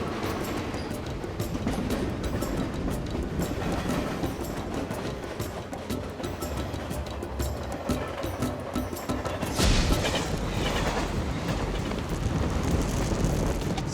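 A North Rail Express train picks up speed along the track, making a steady broadband rumble and rattle that holds loud and constant throughout, with a rushing swell late on.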